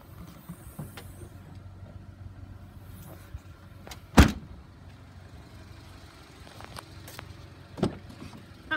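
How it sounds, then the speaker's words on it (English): The manual liftgate of a 2016 Chevy Trax LTZ AWD shuts with one sharp, loud slam near the middle, followed by a fainter thud a few seconds later against quiet outdoor background noise. "A manual liftgate."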